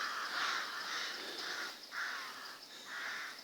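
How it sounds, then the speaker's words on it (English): A flock of crows cawing outdoors, repeated harsh calls in uneven bursts at moderate distance, fairly faint with no talk over them. "an influx of crows."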